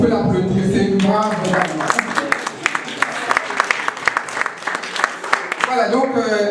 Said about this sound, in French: Je pense qu'on peut l'applaudir, c'est une brave.